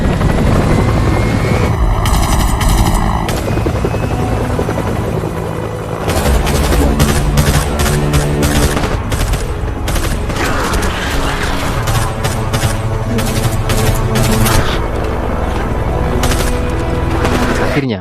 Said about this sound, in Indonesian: tiba-tiba helikopter dengan senjata lengkap muncul dan menembaki zombie-zombie